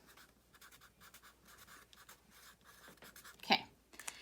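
A Sharpie permanent marker scratches across paper in short, quiet strokes, close by, ending with a couple of sharper taps and scrapes.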